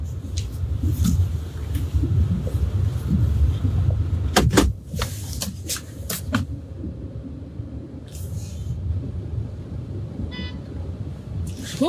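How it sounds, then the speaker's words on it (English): Vehicle horns honk on a road amid rumbling traffic, several short sharp toots in a cluster midway and a few more later, over a constant close engine and road rumble. "Who are these people honking?"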